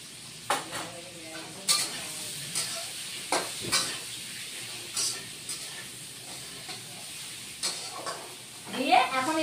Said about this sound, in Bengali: এখন ভেজে নেব আলু আর মিষ্টি কুমড়োটা।